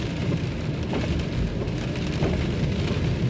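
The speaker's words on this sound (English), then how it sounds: "It's raining hard." Heavy rain drums steadily and densely on a taxi, a continuous close hiss and patter with no voices.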